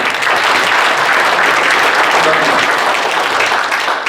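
Sustained, dense applause from an audience at a formal general meeting and chairman handover ceremony, honoring the outgoing chairman; loud and steady throughout, with no voices standing out.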